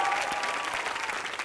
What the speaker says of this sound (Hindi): तालियां for that